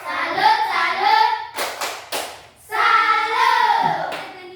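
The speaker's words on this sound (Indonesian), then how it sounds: "kita tepuk salut dulu untuk Jenita" A class gives a clapping salute for a pupil named Jenita. Two sharp hand claps land between stretches of children's voices chanting together in unison.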